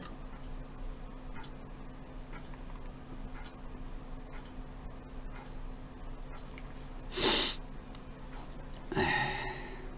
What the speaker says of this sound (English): sorry if I keep sniffling